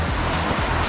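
A creek on a forest hiking trail flows in a steady close rush of water, with faint splashing pulses and no talking.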